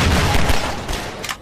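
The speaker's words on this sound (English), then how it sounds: "Who's shooting at me?" Rapid Half-Life 2 gunfire crackles through a dense, continuous burst of shots and booms, loud and close, with a few sharper cracks standing out near the end.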